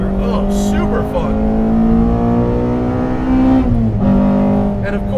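A 2014 Honda Civic Si with a naturally aspirated K24-based engine revs steadily while driving, its tone rising and then dipping at a shift, loud and continuous throughout, with people talking over it.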